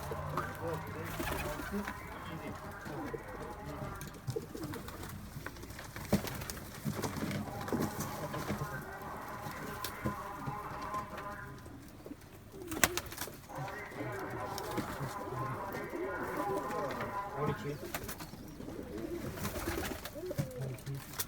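Many pigeons cooing in soft, overlapping bursts close by, with a brief sharp knock partway through and low murmuring voices in the background.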